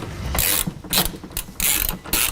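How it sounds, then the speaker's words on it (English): Ratchet with an 11mm socket turning a fuel tank strap bolt on a 2019-22 Mercedes Sprinter van, giving several close, rapid clicking bursts in an uneven rhythm. "Starting with the rear strap with an 11mm socket, we are going to be removing the rear strap."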